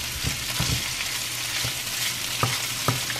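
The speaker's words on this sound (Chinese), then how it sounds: "我比较喜欢就是用原先的这个动物油脂来炒这个菜。" Celery and beef stir-fry in rendered beef tallow, a loud continuous sizzle with intermittent scraping clicks of the spatula stirring the pan, close up and without speech.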